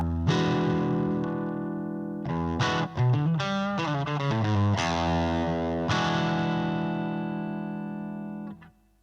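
A REVV D20 guitar amp played through a small 6-inch speaker cabinet simulation rings out with distorted, sustained chords and a quick melodic run, loud and alone, ending with a sudden cutoff.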